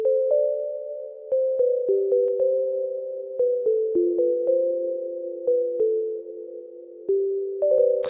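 Dark Bell synth preset in FL Studio's GMS plays a repeating melodic pattern of clean, bell-like struck notes, each decaying quickly before the next, steady and alone with no voices.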